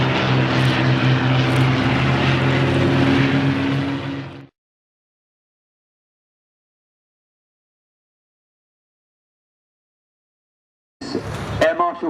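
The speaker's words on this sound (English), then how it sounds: "Air Marshal Cliff Spink just landing" A propeller aircraft lands at the Shoreham Airshow's 2011 Battle of Britain re-enactment, its loud, steady engine drone filling the first four seconds before cutting to silence, with a short burst of noise at the very end.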